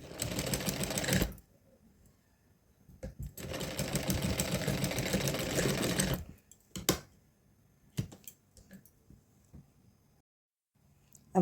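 A sewing machine stitches a doll dress in two long steady runs with a pause between them, then gives a few short clattering bursts and stops. The stitching is close and loud, with no talk over it.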